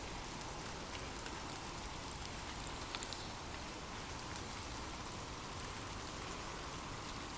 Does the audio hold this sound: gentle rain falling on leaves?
yes